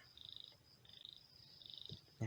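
Frogs and insects calling outdoors at a chili garden in the rainy season: faint, pulsing low croaks repeat steadily under a thin high insect trill, with a brief louder thump at the end.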